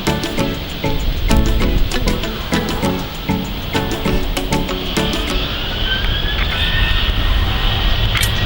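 A Lion Air airliner taking off at an Indonesian airport, its engine roar rising and spreading into a broad, sustained rumble with a whining tone near the end, heard from a distance outdoors.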